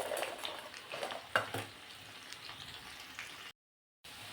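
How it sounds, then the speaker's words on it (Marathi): Potato bhaji and slit green chillies frying in hot oil, a soft steady sizzle with occasional stirring clinks of a utensil against the pan, fairly quiet and close, briefly cutting out near the end. "भजी सोबत छान अशा मिरच्या सुद्धा तळल्या जातील."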